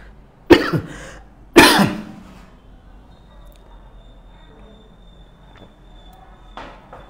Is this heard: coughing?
yes